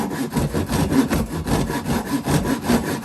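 A 9 teeth-per-inch pull saw rips through wood in a quick, steady rhythm of rasping strokes, close and fairly loud, with no voices.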